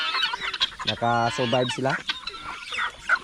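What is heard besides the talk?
chickens, turkeys and ducks on a farm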